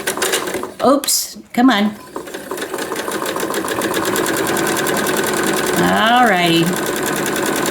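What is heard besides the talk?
sewing machine stitching crumb block fabric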